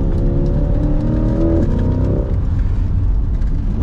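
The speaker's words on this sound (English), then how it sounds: "Brake, turn, full throttle." A Chevrolet C8 Corvette engine runs at full throttle out of a turn in sport mode with performance traction management, a loud, close, continuous roar whose pitch climbs steadily, then drops at a shift and keeps pulling hard.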